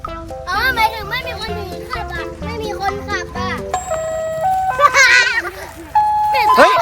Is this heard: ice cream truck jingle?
yes